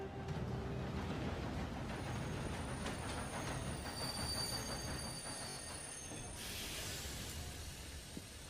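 Train rolling in to arrive at Saint Denis in Red Dead Redemption 2, a steady rumble of railroad cars with wheel squeal and faint clatter, continuous and moderately distant, later joined by a higher hiss near the end.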